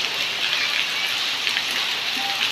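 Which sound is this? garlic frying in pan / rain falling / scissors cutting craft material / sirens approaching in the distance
rain falling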